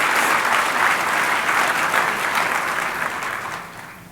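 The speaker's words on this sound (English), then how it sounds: "I understood there might be some applause" Audience applause at a global health gala fills the room with a dense, steady wash of clapping that stays loud throughout and eases slightly toward the end.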